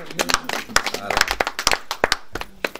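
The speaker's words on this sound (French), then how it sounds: "Allez, nous acclamons pour Maman Marie" Lively applause and rhythmic clapping for Maman Marie at a Christian gathering, quick uneven claps close by, mixed with voices speaking over them.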